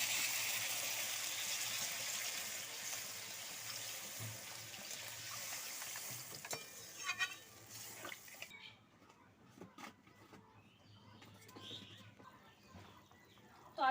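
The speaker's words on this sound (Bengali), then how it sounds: "এবার আমি দিয়ে দিচ্ছি জল" Water pours steadily into a pan of spice-coated potatoes for a Bengali rui fish curry, a close hissing, splashing stream that thins out and stops, leaving faint sizzling and small clatters.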